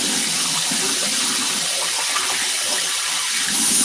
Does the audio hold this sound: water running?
yes